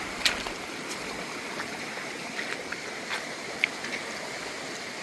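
Water streams steadily through a mini Geo sluice while prospecting glacial till, a constant close rushing wash with a few small splashes and ticks on top.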